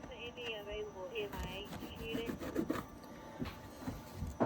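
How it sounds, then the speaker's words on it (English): Grime being scrubbed off the housing of a Motorola XTS5000R radio makes soft close rubbing and rasping strokes in an uneven rhythm, over faint background tones and noise. "So just about 2 minutes scrubbing there."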